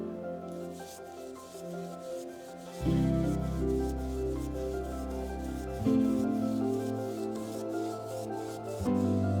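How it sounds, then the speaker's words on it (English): A light sanding pass over an OSB wooden box, a steady dry rubbing and rasping heard close and alone, swelling louder in strokes at intervals. "After giving the box a light sand"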